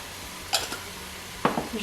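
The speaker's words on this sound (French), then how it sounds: "Je mélange." Two brief scraping, clinking strokes of a utensil against a cooking pan while stirring peppers seasoned with pepper, garlic and salt, heard close over a steady background hiss.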